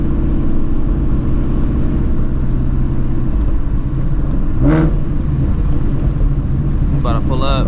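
A Procharged Shelby GT350 drives along, its steady low engine rumble and road noise constant throughout, with a brief whoosh midway and a short squeak near the end.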